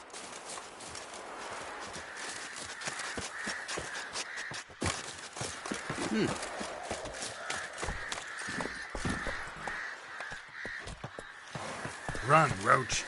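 A horse called Roach gallops in a fantasy video game, its hooves drumming in a quick, steady rhythm for over ten seconds, with a crow cawing and talk heard over the hoofbeats.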